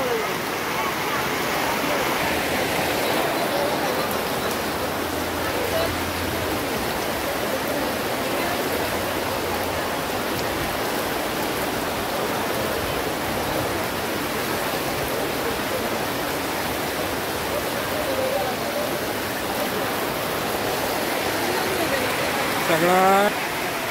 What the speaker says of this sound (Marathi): नको इतकं झाले पाऊस. बघा कुठून ते पाणी पडते, कुठून बी पाणी पडते.